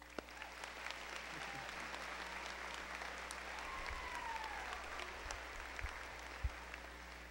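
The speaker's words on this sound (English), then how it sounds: "Give yourselves a round of applause." Steady, dense applause from a large graduation crowd at a high school ceremony, heard at a distance and sustained without a break.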